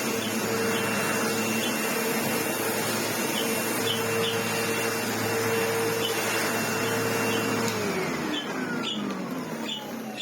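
A Sebo X4 upright vacuum cleaner runs after repair with a steady, close, loud motor whine and airy rush that holds evenly, then winds down in pitch near the end.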